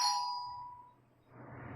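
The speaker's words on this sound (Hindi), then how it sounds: "डोरबेल सुनी ना" A single electronic doorbell chime rings once, bright and fairly close, decaying over about a second before faint room noise, with no talk.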